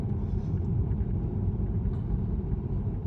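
A Tesla Model 3 Standard Range Plus drives itself on the road, giving a steady low road and tyre rumble that stays level and close for the whole stretch, with no voices.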